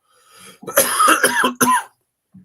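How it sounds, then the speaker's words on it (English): A single harsh cough, sputtered out in several rapid bursts, close and loud, followed by quiet. "Excuse me, I'm going to cough."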